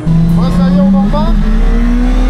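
A rear-wheel-drive Renault Twingo fitted with a Suzuki GSXR 1000 motorcycle engine drifts. The engine holds a loud, steady high-revving whine that rises slightly, recorded close from inside the car, with a voice briefly over it.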